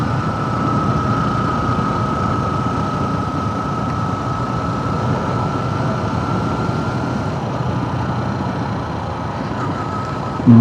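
A motorcycle climbing a steep uphill road toward Gayas Waterfalls in New Corella, Davao del Norte, carrying passengers, its engine droning steadily and strained throughout, loud and continuous with a faint tonal whine above the rumble.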